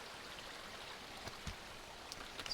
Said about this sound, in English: the trail is basically turned into the stream